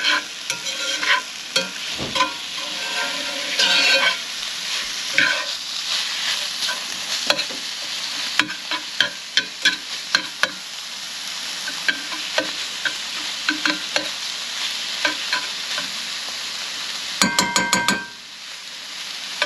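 Deer heart pies fry in a pan with a steady, close sizzle, broken by frequent sharp scrapes and taps of stirring and a brief clattering burst near the end.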